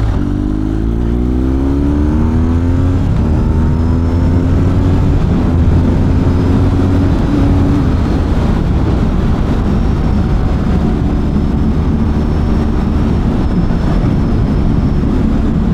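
A car accelerates hard at speed on the road, its engine note climbing steadily in pitch over several seconds before settling into a loud, sustained roar with wind and road noise, recorded close inside the moving vehicle.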